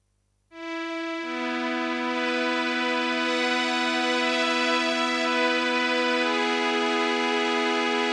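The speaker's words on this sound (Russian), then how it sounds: "Струнные." A sustained strings-voice chord from a Casio CDP-S110 digital piano swells in after a brief silence and holds steadily, smooth and rich, with a note shifting partway through.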